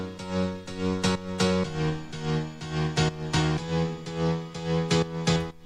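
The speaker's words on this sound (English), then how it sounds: "So I just put in the pianos and it sounds like this." Piano chords move through a progression meant to support a lead line, each chord struck with a clear attack and left ringing in a steady rhythm, with no voices.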